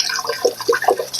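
Filtered well water poured from a container into a jar of rehydrated sourdough starter, a short loud gurgling splash with a few bubbly glugs close by, alone without talk.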